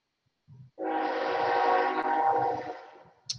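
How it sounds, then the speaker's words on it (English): A train, heard in play during a board game match, gives a sustained horn-like tone that swells and holds for a couple of seconds before fading, with faint knocking around it. "Oh, the train goes by."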